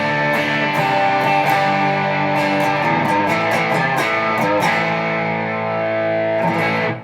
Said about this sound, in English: So here's how the pedal sounds with everything at 12 o'clock.